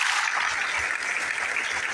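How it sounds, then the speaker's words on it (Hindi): A short burst of clapping from a business-plan meeting audience, moderately loud and evenly dense, filling the moment without any voice on top. "बेहतरीन तालियां सर कवच"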